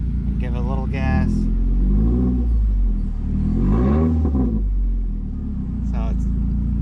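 An unmuffled Nissan Rogue engine rises in a couple of gentle revs, a loud close rumble that swells and settles, with clicks and mechanical noises around it.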